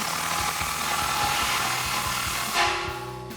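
A 15mm socket tightening an exhaust clamp on a GMC Sierra 1500 Borla S-Type dual exhaust, a close ratcheting with a steady run of clicks in quick rhythm, ending in a brief louder swell.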